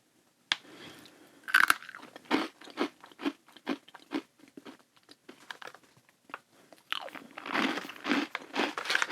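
Parmesan cheese crisps are crunched and chewed close up, a string of sharp, irregular bites and crackles over several seconds with quiet gaps between them.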